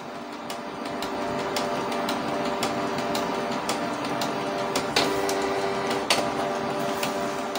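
A Canon G1010 inkjet printer runs after an external waste ink line has been fitted. Its steady mechanical hum carries repeated sharp clicks and ticks from the moving carriage. No one speaks.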